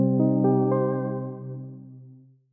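Dry synth chord played without the Glitter grain effect, a rich sustained harmonic tone with a few quick note onsets that slowly fades over about two seconds, clean and alone.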